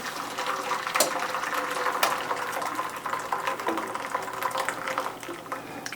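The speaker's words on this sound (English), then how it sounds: "I pour my hot water into the bath." Hot water pours steadily into a pan to make a water bath for baking savory egg custard, a continuous close splashing rush with a few small clatters and no speech.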